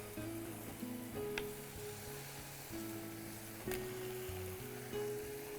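Mango pieces go into a mango kurma in a hot pan, giving a soft, even sizzle under steady background music.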